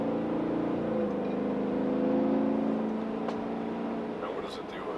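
A Chevy Tahoe with a 5.3L V8 and Corsa cat-back dual exhaust rumbles from inside the cabin, swelling slightly then easing off, with a voice speaking over it.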